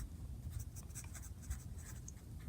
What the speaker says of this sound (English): Time to sketch again.